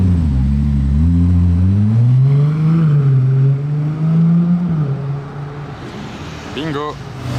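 A green McLaren 600LT Spider approaches with a loud engine drone that rises and shifts pitch, then passes with a quick rev near the end, heard amid street noise.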